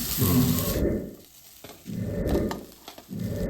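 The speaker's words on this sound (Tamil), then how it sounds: "உளுத்தம்பருப்பு, மிளகா எண்ணெய் வறுத்துக்கணும்" Urad dal and chillies fry in oil in a pan, giving a close sizzle that swells and fades in three rounds, with light stirring clinks between them.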